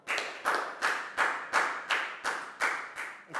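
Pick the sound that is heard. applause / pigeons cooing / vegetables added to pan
applause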